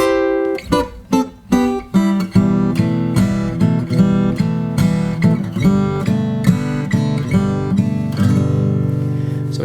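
Fingerstyle guitar intro with plucked notes and chords, starting in sharp separated attacks and settling into a steady, ringing picked pattern, played alone.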